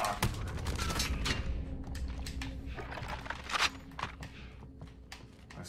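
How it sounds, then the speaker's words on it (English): Gunfire in the video game Rebirth, a quiet spatter of rapid shots and bursts spread over several seconds, with footstep-like movement and faint ambient tones in between. "Well, I got shot a lot"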